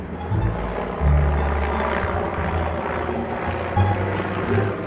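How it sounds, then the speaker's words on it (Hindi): A helicopter flies overhead during the Republic Day preparations on January 26, heard as a steady, fairly loud low rumble that holds throughout with slight swells. "इसलिए हेलीकॉप्टर ज्यादा उड़ रहे हैं कुछ ज्यादा ही उड़ रहे हैं आजकल"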